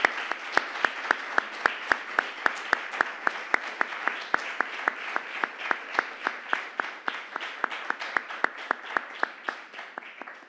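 Steady applause from a gathered audience fills the space, with a few sharp, louder individual claps standing out in a regular pattern throughout.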